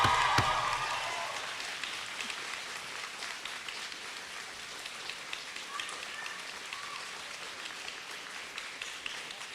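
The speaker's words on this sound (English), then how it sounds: "A round of applause for your supporters." A graduation convocation audience in Peterborough applauds the graduates' supporters, a steady patter of many hands clapping with scattered louder claps, moderately distant and sustained throughout.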